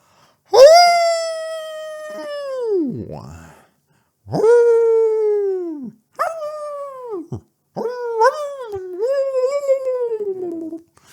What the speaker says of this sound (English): The howling of the dog grows louder.